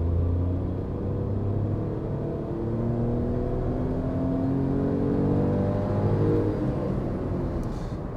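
A Tata Tiago petrol car accelerates on an open highway, heard from inside as a steady engine drone with rising whirring tones and road rumble throughout, no voices.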